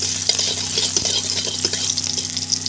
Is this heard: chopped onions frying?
yes